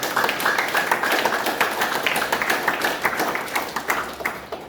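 Loud, dense applause from an audience at a Hindi spiritual talk, clapping for the couples present. Fast, crowded claps run steadily through the whole stretch with no voices over them.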